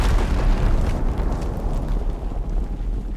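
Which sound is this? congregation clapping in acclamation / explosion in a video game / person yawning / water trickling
explosion in a video game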